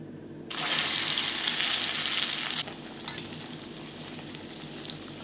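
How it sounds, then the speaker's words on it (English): Egg-coated kebabs dropped into hot oil for deep frying, a sudden loud hissing sizzle that settles after about two seconds into a quieter, steady bubbling crackle nearby. "then coming back and deep frying them"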